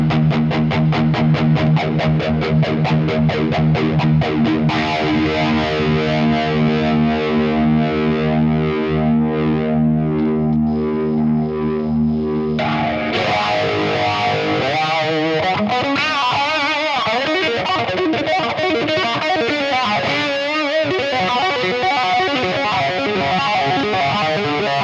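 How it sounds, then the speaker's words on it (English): Electric guitar played through a TONEX Plug amp modeler with a phaser effect, loud distorted sustained chords with sweeping modulation, then a busier strummed passage. "look at the phaser"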